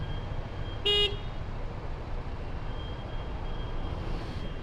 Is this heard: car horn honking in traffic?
yes